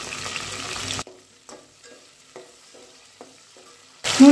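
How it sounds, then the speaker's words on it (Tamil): Drumstick pieces and curry leaves sauté in oil with softened onion for a tamarind kuzhambu, a close sizzle at the start, then near-silence with a few light scrapes and clicks, before the sizzle returns loudly. "இப்போ வந்து முருங்கைக்காய் சேர்த்துடலாம். இன்னும் கருவேப்பிலை சேர்த்துடலாம்."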